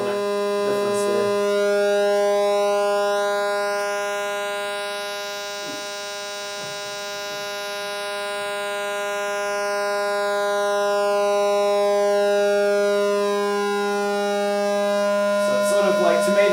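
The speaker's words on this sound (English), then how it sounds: "And this is this is a pulse wave." A sustained synthesizer pulse wave tone with a bright, buzzy stack of harmonics, its timbre sweeping gradually as the pulse width narrows and widens, steady and loud throughout with faint bits of talk at the start and end.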